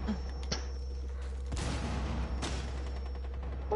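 Gunfire in the tactical shooter video game Rainbow Six Siege: a few sharp, separate shots over a steady hum of background noise, with no talking.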